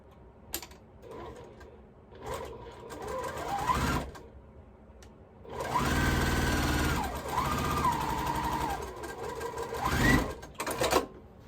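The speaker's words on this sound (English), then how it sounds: "I'm going to sew this up and show you how I'm going to attempt to get these blocks sewn up" A sewing machine stitches patriotic quilt blocks in bursts, its rapid mechanical whir rising and falling as the pace changes, with clicks and pauses between runs, close and fairly loud.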